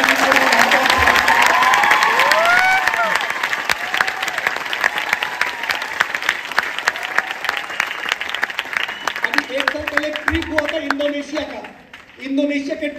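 Loud, dense applause from a large audience at a network marketing training seminar, rolling continuously and thinning slightly toward the end as a voice begins speaking over it.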